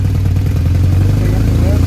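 A BMW R1100R motorcycle engine idles up close after a throttle body balancing, a loud, steady low thrum with an even pulsing rhythm throughout.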